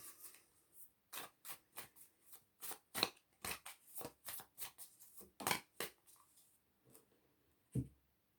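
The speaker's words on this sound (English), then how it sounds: "I'd like to draw another card." Tarot cards are riffled and drawn in a rapid series of crisp, papery flicks and slides, close and fairly quiet, with a brief pause near the end before a final soft card sound.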